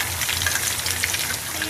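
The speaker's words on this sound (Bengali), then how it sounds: "এই যে আমাদের চিকেন ফ্রাই এখন অলরেডি ভাজা চলতেছে আগুনে" Chicken pieces frying in hot oil over a flame, a steady close sizzle with dense crackle throughout, no voices.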